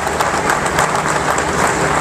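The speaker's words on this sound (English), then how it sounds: "And let's give a round of applause to all of those folks who work here with us and for us." Steady, dense applause from a large audience gathered at an aluminum plant honoring its workers, a continuous wash of many hands clapping at close range with no voices standing out.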